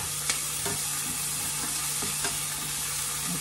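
Tomatoes and onions sauté in a hot pan with a steady close sizzle. A few faint stirring clicks sound over it, with no talking.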